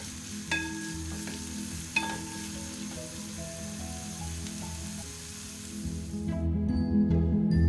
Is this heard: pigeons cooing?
no